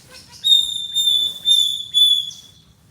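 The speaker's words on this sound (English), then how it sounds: "There are a lot of small birds who make a lot of noise." A thin, high whistling call repeats in four steady pulses, clear and fairly close over a quiet low hum.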